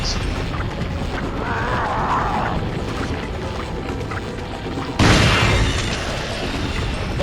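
A shotgun blast in Resident Evil 4 lands as one sudden loud boom near the end, cutting through steady game ambience and faint background sounds.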